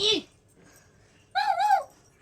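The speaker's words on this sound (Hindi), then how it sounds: "ये क्यों भौंक रही है" A dog indoors at home gives a short sharp bark, then a longer wavering whining bark about a second later, both close and fairly loud against a quiet room.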